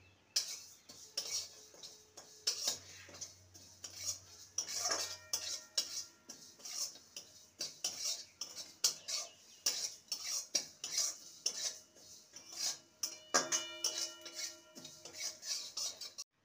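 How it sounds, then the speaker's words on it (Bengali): Whole black mustard seed, cumin and radhuni dry-roasting in a dry pan, heard as repeated close scraping and clinking of a metal spatula against the pan, with light rattling of seeds and no talk. "শুকনো খোলায় ভেজে নেব।"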